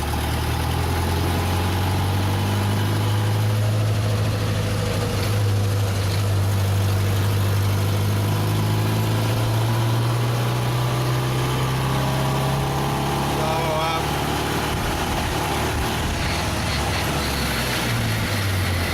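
Vintage car engine running steadily while driving in third gear, a continuous close mid-pitched drone with a slowly shifting tone under faint road and cabin noise, no talking.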